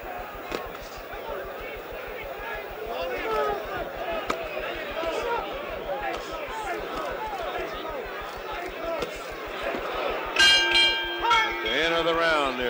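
A boxing round bell rings with a bright metallic clang near the end, in the third Muhammad Ali vs Ken Norton fight, heard over crowd noise and a commentator talking.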